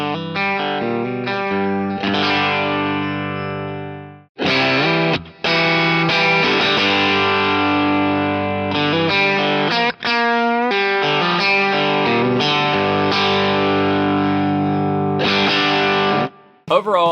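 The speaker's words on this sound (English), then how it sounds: "I've got plenty there to really hit the front end of an amp and push it into overdrive" An electric guitar plays loud, sustained chords and phrases through an LSL Instruments boost pedal driving the amp into overdrive, with a thick, saturated tone and brief pauses between passages.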